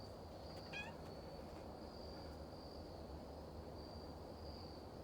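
A stray cat lets out a single short meow early on, faint and distant, over a quiet background hum and a thin steady tone.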